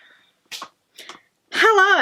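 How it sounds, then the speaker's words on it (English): A single loud sneeze bursts out at the end, preceded by a couple of short sharp breaths or catches, close and clear indoors. "I'm going to sneeze again."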